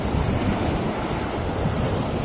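Fairly large waves break at a Red Sea beach in Jeddah, giving a loud, continuous surf roar mixed with heavy wind buffeting the microphone.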